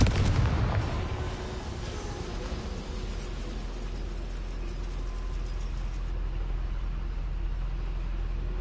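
A Confringo fire spell bursts inside a goblin mine in Hogwarts Legacy, opening with a loud, sharp blast that settles into a low, steady rumbling roar lasting several seconds.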